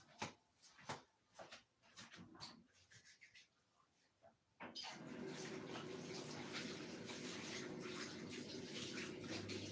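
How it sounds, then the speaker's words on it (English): Hands are washed under a running kitchen tap while pizza is prepared; a steady, close rush of water starts abruptly about halfway through and continues evenly, following scattered light clatter and handling noises. "I'm gonna wash my hand"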